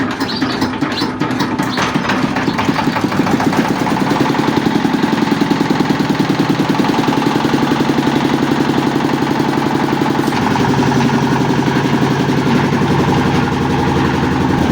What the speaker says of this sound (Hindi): इंजन स्टार्ट होने लगा